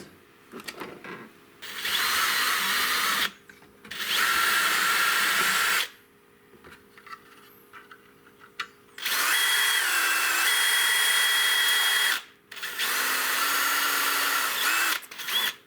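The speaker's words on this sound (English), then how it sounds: "So just drill it out real quick." A power drill whirs in four loud bursts of a few seconds each, drilling out holes in 3D-printed robot parts, with brief quiet pauses and small handling clicks between them.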